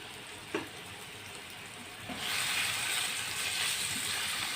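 Liver dropped into melted beef fat in a pan: a soft knock, then a steady hiss of frying that rises sharply and carries on loudly to the end.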